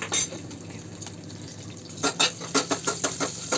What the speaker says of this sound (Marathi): तेल गरम झालं त्याच्यामध्ये मोहरी जिरं हिंग कडेपत्त्याची पाने मिरचीचे तुकडे परतून घ्यायचे